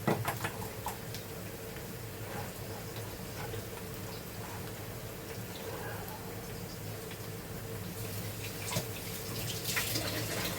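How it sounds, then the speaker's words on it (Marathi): Crab cooking water pours and trickles steadily through a strainer, a continuous splashing wash with a few faint clinks, fairly close and with no talking. "हे बघा डांग्याचं आपण असं गाळून घेतो पाणी"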